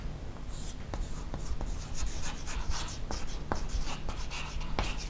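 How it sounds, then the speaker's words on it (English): Handwriting during a chemistry lesson, a pen or marker scratching steadily in short strokes with little ticks between words, close up and without speech. "So let me write this."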